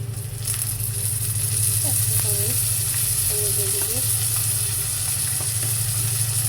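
A ground paste of ginger, garlic and cumin fries in a pan with a constant close sizzle and a low steady hum underneath, while a voice speaks faintly over it.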